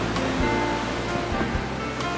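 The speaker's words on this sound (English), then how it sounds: "And that's the waterfall behind me." Roaring Yosemite waterfall heard close up as a dense, continuous rush of crashing water, loud and unbroken, with no voices.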